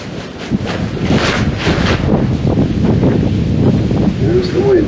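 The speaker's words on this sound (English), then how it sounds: "There's the wind again." Wind gusts buffet the microphone outside a trail lean-to in the woods, a loud continuous roar with rustling, and a brief voice near the end.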